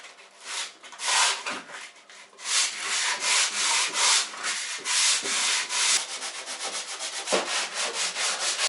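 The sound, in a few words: sanding drywall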